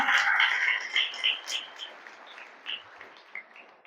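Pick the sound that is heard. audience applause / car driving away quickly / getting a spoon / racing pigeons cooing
audience applause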